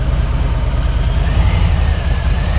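A Harley-Davidson motorcycle pulls away slowly as its clutch is eased out. The low, steady engine rumble stays close and fairly loud, without sharp revs. No voices are heard.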